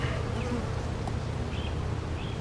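Honeybees buzz thickly around an open beehive on a farm, a dense continuous drone close by with individual bees whining past.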